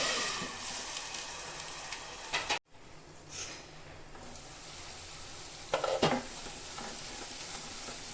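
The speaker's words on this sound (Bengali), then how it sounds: "মশলাটা আমার খুব ভালো করে ভাজা হয়ে গেছে" Spice paste for dried fish chutney sizzles steadily in a pan, a continuous frying hiss broken by a brief pause and a few stirring scrapes.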